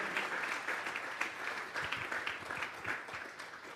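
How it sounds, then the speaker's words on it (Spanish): A church congregation at a Sunday morning service claps together as an offering of applause, a sustained wash of many hands with slightly uneven rhythmic surges, filling the room without voices on top. "Vamos a darle una ofrenda de palmas a Dios en esta mañana."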